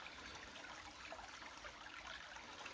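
A low summer stream flows in a constant, close rushing wash with no breaks and no voices.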